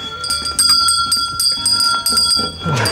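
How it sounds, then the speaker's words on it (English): A hand bell rung repeatedly in quick bright strikes with ringing overtones, close and loud, while people talk and laugh over it. "Oh my God, he has a bell."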